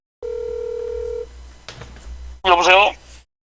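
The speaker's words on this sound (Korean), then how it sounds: "전화 인터뷰를 시도하겠습니다" Telephone tones while placing a call for a phone interview: a steady single tone lasting about a second, then noisy line sounds and a short burst of rising dialing tones.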